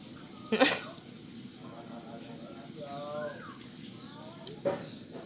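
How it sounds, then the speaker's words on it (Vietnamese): Batter-dipped vegetarian beef balls fry in a pan with a soft, steady sizzle, broken by a couple of sharp bursts, while someone talks over it. "rồi bắt đầu mình sẽ thả vô chảo mình chiên nha"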